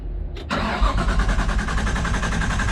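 A Nissan RB25DET engine in a drift car cranks on its starter while priming oil. After a short pause comes a loud, steady, rhythmic chugging of the starter turning the motor over without it catching.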